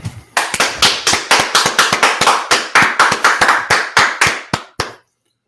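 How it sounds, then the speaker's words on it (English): Group clapping at a street gathering in Washington DC: about twenty sharp, loud claps in a steady unison rhythm, close by, then it stops abruptly into silence. "All right, let's clap it up."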